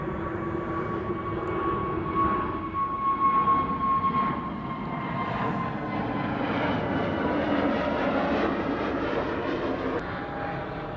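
An EasyJet jet departing Amsterdam Schiphol gives a sustained, loud engine roar with a steady tonal whine that slowly shifts and swells, rumbling continuously for several seconds with no voices.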